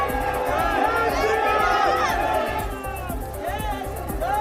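A large crowd gathered on a street in Patna as Acharya Dhirendra Shastri's convoy passes, with dense shouting and cheering voices, loud and close, overlapped by chatter and rhythmic thumping throughout.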